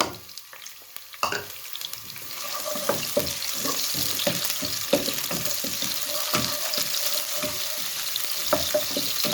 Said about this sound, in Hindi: सबसे पहले हम प्याज ऐड कर देंगे